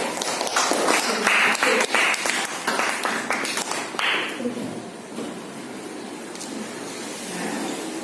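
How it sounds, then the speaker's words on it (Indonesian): A classroom of people clap their hands together in a lively burst of uneven applause that thins out after about four seconds into scattered, quieter claps. "Kayak tepuk tangan semuanya."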